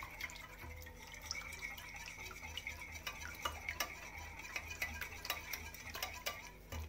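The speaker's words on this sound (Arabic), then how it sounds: "نحاول نخلط بالضرب اليدوي." A hand whisk mixes brioche dough with sugar and a pinch of salt in a bowl, giving soft, quiet, continuous scraping and stirring with faint clinks of the whisk against the bowl.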